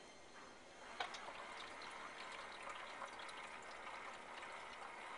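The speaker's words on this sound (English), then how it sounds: "you can hear the pump pumping the water up" A portable Emerson countertop ice maker runs its small pump, pushing water up into the reservoir with a steady, moderately loud gushing trickle and a faint click near the start.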